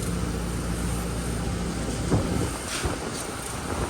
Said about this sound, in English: Oh, the wind's crazy.